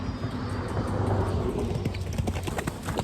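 Hooves of a horse being worked in a round pen, a steady clip-clop of footfalls on the ground running throughout at moderate distance, with faint background sounds and no talk.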